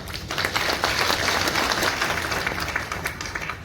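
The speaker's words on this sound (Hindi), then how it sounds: "ये ताली बजा रहा है" Audience at a city pride day ceremony in Bareilly, Madhya Pradesh claps steadily, a dense close burst of applause lasting several seconds with no talk.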